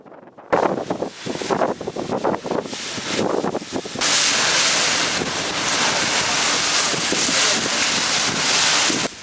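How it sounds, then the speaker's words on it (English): A sightseeing boat turns around at Milford Sound in heavy rain, with strong wind buffeting the microphone and waves and water rushing steadily past, loud and continuous throughout after a brief rumbling start. "And the ship is making a U-turn now to return back to Milford."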